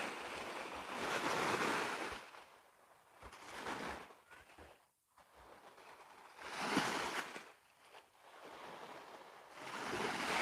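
Ocean surf at a seaside beach resort rolls in broad repeating surges, each wave swelling to a roaring wash and fading before the next, with wind noise buffeting the microphone.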